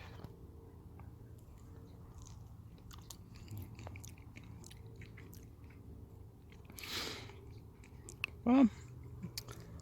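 Soft, close chewing and squishing of a ripe Black Madeira fig, quiet and brief, with a short word spoken and a sharp bite noise near the end.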